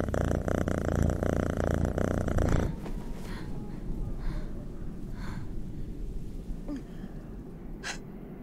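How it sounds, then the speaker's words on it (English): Rough, low rattling purr of a cat in The Walking Dead video game, loud and dense for a couple of seconds, then fading into a softer continuous murmur with faint game ambience. "The emotional support cat noises."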